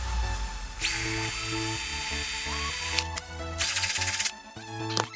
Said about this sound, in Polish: Zaczynamy od wywiercenia dziury spodzie butelki.